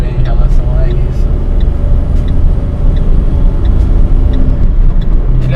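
Steady, loud engine drone from inside a Renault Kwid as it downshifts, a dense low rumble with road noise throughout and someone talking over it.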